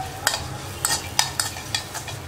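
A lump of asafoetida fries in oil while a metal utensil stirs it, giving a series of sharp clinks and scrapes over a low, continuous sizzle.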